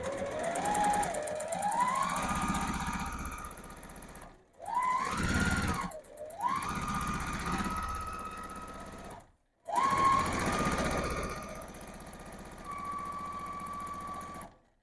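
A Juki sewing machine with a cutter on its foot stitches fabric in long steady whirring runs, each ending in a brief pause and restart, loud and close with no talking.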